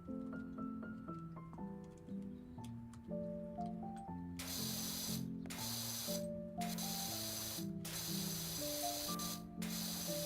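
A pressure washer nozzle sprays in the PowerWash Simulator game. The hissing blasts come in three long bursts, each broken by a short pause, over a steady melodic music track.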